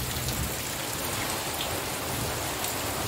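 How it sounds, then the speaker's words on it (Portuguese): Steady, dense rain pours down continuously on a rural smallholding in Brazil, a full hiss of drops hitting surfaces with no pauses. "só para deixar o registro dessa chuva"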